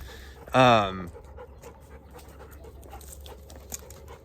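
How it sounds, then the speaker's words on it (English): Dogs on a rural property give one short, rising whimper, then pant softly and steadily in the background. "Sorry, my dogs."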